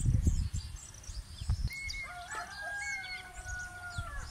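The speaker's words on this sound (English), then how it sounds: "rooster chicken sounds in the background rooster chicken crow" A rooster crows in the distance, its drawn-out call rising and falling over low background rumble and scattered clucks.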